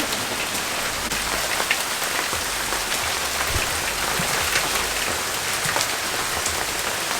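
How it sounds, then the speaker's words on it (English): Hail and rain fall during strong winds, a dense, continuous patter and drumming on surfaces that stays loud and even throughout, with no voices. "now it is hailing"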